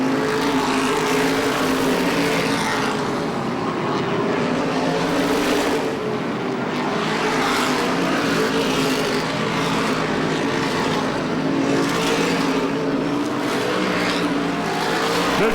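Modified race cars roar around Lee USA Speedway during a 2007 Modified Racing Series event, a loud, continuous wall of engine noise that swells and fades as the cars pass, with no speech over it.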